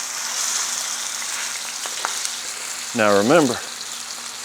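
A ribeye steak sears in a screaming hot pan with a steady, close sizzle throughout, and a voice speaks briefly over it near the end.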